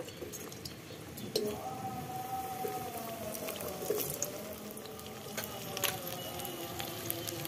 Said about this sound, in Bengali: এবার আলুগুলো ভাজবো